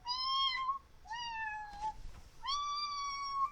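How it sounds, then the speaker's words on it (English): A cat in The Sims 4 (Cottage Living) meows three times, each call drawn out and clear, with short gaps between them and no voices over it. "I hear the kitty!"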